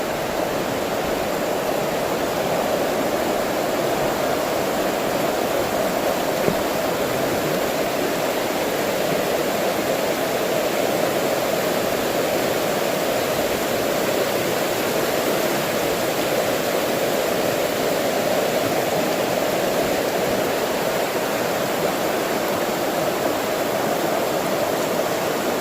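River flowing under a bridge at Three Rivers, a steady, broad rushing wash of water that stays even and loud throughout, with no voices.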